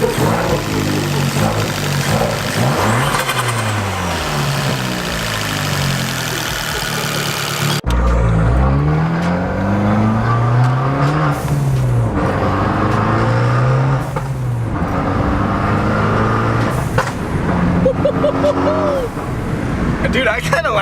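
A Fiat 500 Abarth fitted with a Forge Motorsports blow-off valve revs repeatedly, its engine note climbing and falling in close, loud sweeps, with people talking over it.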